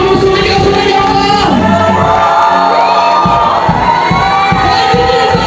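A church congregation shouts and cheers during worship, a loud, dense crowd roar of many voices with whoops and cries sustained throughout.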